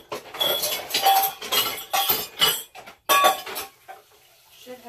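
Pot being scrubbed and washed in a home kitchen, with repeated clanking and scraping of metal cookware and utensils in bursts close by, ending in a quieter tail.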